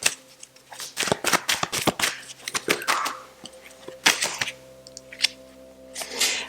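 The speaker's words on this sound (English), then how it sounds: "Let me get this card out." Tarot deck being handled as a card is pulled out, a series of crisp papery snaps and riffling shuffles in uneven bursts, close and fairly quiet over a faint background hum.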